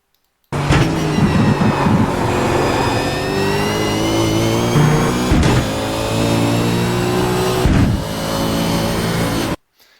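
Car on a race track downshifting into third gear through a tight left-hand corner. The engine revs loudly and close, its pitch climbing and dropping with abrupt breaks at each shift, with no voices.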